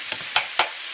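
Hamburger meat for Arkansas-style chili being stirred in a pot, three distinct scraping strokes punctuating a low background sizzle, close and with no voices.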